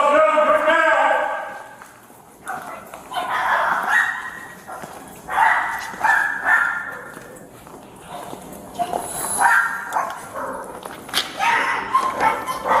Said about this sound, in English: And now these dogs are barking because they're like, I want my freedom